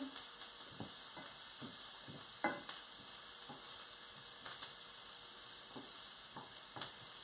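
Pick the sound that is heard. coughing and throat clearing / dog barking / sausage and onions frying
sausage and onions frying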